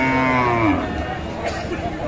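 A Sahiwal cow at a busy cattle market gives one loud, close moo that slides downward and fades, with faint crowd murmur behind it.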